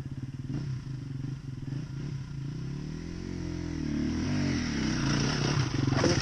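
A 2019 KTM motorcycle engine runs close by with a throbbing, rattly idle that swells into rising revs and a louder roar toward the end, with no voices heard.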